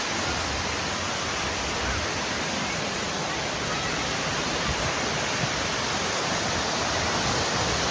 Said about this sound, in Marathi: परत एकदा धबधबा खूप जोरात वाहतो